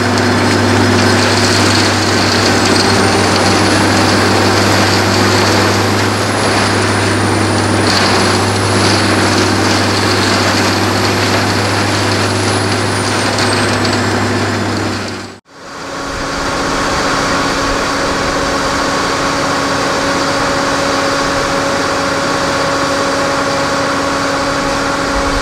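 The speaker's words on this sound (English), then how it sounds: "starting with the excavator loading the branches into the chipper" A tree-harvesting wood chipper chips branches fed by an excavator and blows the chips into a tractor-trailer box, its loud steady engine drone running throughout with one brief cut partway through, then resuming.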